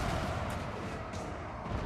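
Booming cannon and gunpowder fire rumbling across a battlefield in Total War Warhammer 2, a dense, low, continuous roar of distant blasts with no clear single shot standing out.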